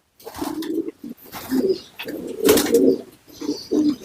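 Low throaty cooing from a flock of breeding pigeons, repeated in overlapping bursts, near and fairly loud, with occasional sharper noises and rustling among them.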